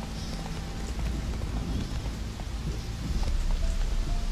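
Steady rain patters across a Witcher 3 game world, a dense continuous hiss with scattered drops and some faint clopping steps, no voices over it.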